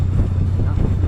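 Wind gusting steadily across a high canal aqueduct on the Llangollen Canal, a constant low roar with buffeting on the microphone and a faint hum underneath, no talk.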